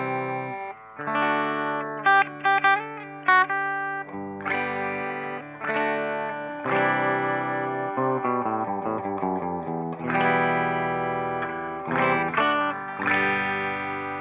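Electric guitar run through an MXR Analog Chorus pedal plays a continuous stream of sustained chords and picked notes with a shimmering, swirling chorus wash, loud and close, with no talking.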